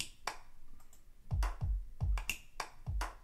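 Crisp electronic clicks and claps hit in a sparse, repeating pattern, each sharp transient layered with a short low thump.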